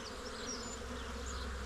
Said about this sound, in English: these bees are really busy